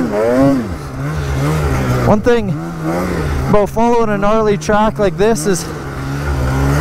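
Snowmobile engine idling and rumbling close by as the machine follows a rutted track through spring snow, a steady low drone running under continuous narration from the rider.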